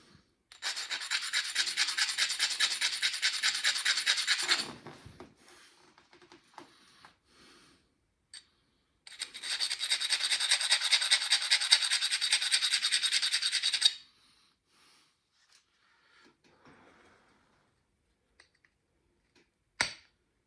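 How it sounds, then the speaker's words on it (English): A glass knife blade is zigzag filed along its edge, heard as two long bursts of close, loud, rhythmic rasping strokes separated by a pause with faint scrapes and a few light clicks, and no speech. "I like to zigzag it just for me, just before I'm done, because then that edge is a sharp edge."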